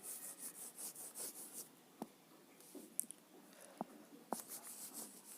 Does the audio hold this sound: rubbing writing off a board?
yes